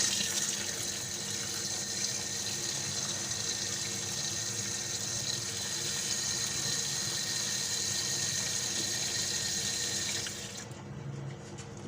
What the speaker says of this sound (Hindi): इसको एक दफ़ा पानी से वॉश करेंगे